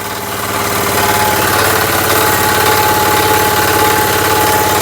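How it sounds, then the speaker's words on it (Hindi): A self-start diesel engine on a small earthing-up and tilling machine for trench-planted sugarcane idles loudly and steadily, with a dense, even rumble and rattling vibration after a brief rise at the start, with no voices. "ये सेल्फ स्टार्ट मशीन है और डीजल इंजन है। 1 लीटर 1 घंटे का इसका डीजल का खर्चा है। देखिए मशीन स्टार्ट हो गई है।"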